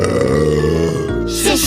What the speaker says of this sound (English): This sound effect is only used for IRL Noelzo season characters when they burp.